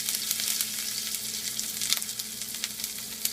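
Mustard seeds, cumin and green chillies fry in hot oil, giving a close, continuous crackling sizzle with scattered sharp pops and no voices over it.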